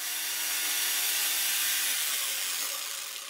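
A power jigsaw cuts a slot into a transparent methacrylate base plate, giving a steady, loud, buzzing cut that runs throughout and eases off slightly at the end.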